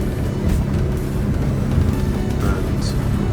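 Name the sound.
Jeanneau Merry Fisher 1295 motorboat running at speed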